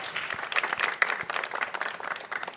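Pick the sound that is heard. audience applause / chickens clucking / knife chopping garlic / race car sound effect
audience applause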